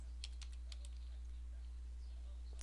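A short burst of fast keystrokes on a computer keyboard sounds faint and close, followed by a quiet room with a low steady hum.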